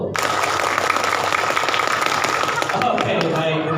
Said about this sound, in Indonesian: Sekaligus tepuk tangan untuk Bapak dan Ibu semua.